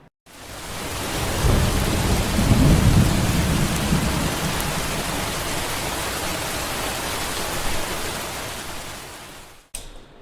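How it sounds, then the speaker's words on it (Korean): Thunderstorm with a heavy rain shower on a humid late afternoon, staged as a radio drama effect: steady loud downpour hissing throughout, with deep rolling thunder swelling early, then rain continuing alone until it cuts off abruptly. "소나기가 내리고 있었다."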